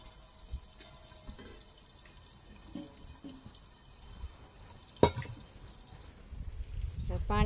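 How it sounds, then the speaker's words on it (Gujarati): Water is poured into a pan of drumstick pods and spices to heat. A soft background hum and a few faint drips lead to a sharp knock, then a rising gush of pouring. "હવે આપણે એમાં ગરમ થવા પાણી મૂકી દઈશું।"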